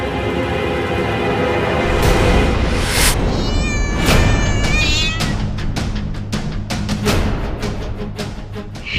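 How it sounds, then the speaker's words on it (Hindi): A cat meowing loudly and repeatedly in a drama scene, with several drawn-out wavering cries followed by a string of sharp clicks and knocks near the end. "बिल्ली"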